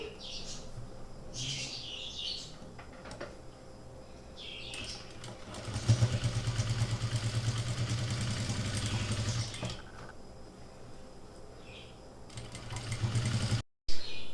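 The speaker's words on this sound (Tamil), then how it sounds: "இப்போ இதை வந்து ஸ்டிச் பண்ணிடலாம் கரெக்டாக இந்த எஜ்ஜில் வச்சு" A sewing machine runs a stitch line along the pinned edge of a net blouse neckline, a steady mechanical whir lasting a few seconds, set against a quiet room with faint chirping birds before and after.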